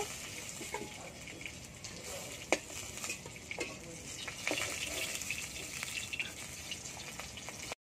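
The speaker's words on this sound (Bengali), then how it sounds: "বাকি মাছগুলোও ভেজে নেব।" Tangra fish frying in oil in a pan for tel tangra, with a steady broadband sizzle, occasional clinks and stirring scrapes of a utensil, moderately close.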